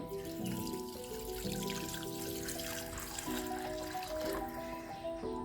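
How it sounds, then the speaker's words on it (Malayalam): Water pouring steadily into a pot of chicken for a Kerala-style white chicken soup, a soft continuous trickle and splash under faint background tones. "2 കപ്പ് വെള്ളം നമുക്കിതിലേക്ക് ഒഴിക്കാം"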